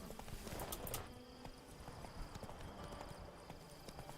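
Roach, Geralt's horse in The Witcher 3: Blood and Wine, gallops in a steady clip-clop of hooves, with a faint whinny early on and a low game ambience beneath the running.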